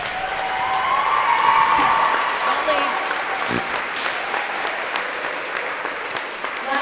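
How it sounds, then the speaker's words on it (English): A high school gym crowd applauds on volleyball senior night, loud sustained clapping and some cheering that swells early and then eases off, with a voice briefly heard over it. "Would everyone please stand and give them a round of applause?"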